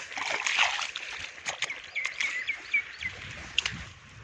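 Irrigation water running into a jasmine field, a light splashing trickle with scattered spatters close by, and bird chirps and faint background sounds over it.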